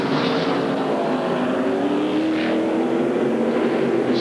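A NASCAR stock car pulls away from pit road after a four-tire stop at a 2001 oval race, a loud, steady engine roar rising in pitch as it accelerates, with crowd and track noise blended around it.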